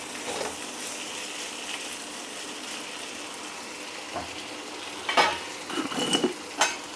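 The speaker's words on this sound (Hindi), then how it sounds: "तो अभी इसे हम एक बार अच्छे से मिक्स कर देते हैं।" Fried potato curry is stirred in a pan with a spoon over a soft background sizzle, quiet at first, then several close scraping clinks toward the end.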